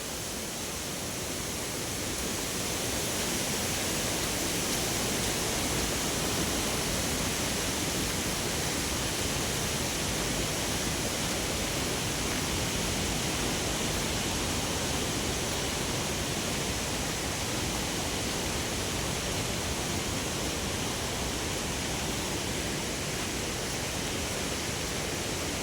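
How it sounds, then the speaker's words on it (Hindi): A distant waterfall on the Kedarnath trek gives a steady, broad rushing roar. It stays unchanged and continuous, with no voices, throughout. "ये दूर से झरना चल रहा है।"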